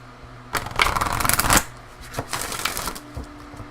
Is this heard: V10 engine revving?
no